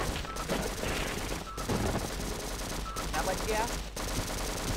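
Machine gun fire in the shooter game Half-Life, sustained loud bursts of rapid automatic shots broken by brief gaps, with someone talking over the gunfire.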